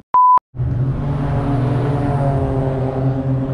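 A Porsche runs on a race track, its steady low engine rumble holding loud and even for about three seconds right after a short electronic beep.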